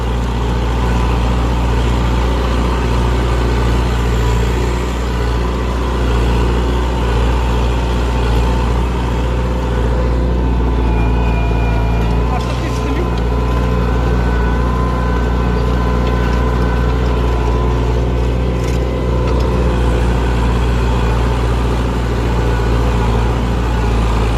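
A Kubota M7040 Narrow tractor engine runs steadily at working revs under heavy load in soil, a loud continuous low diesel drone with a constant mechanical hum throughout.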